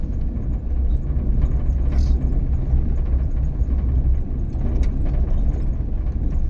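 A safari vehicle driving at night through Nawegaon national park forest gives a steady, loud low engine rumble and road noise throughout, with no talking.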